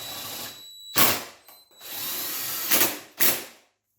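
A power drill drives the plastic body bolts under the gas tank of a Raptor 660 ATV, with several short whirring bursts separated by pauses and a steady stretch in between, close and fairly loud.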